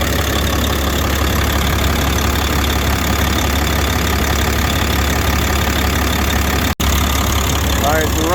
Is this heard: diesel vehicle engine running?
yes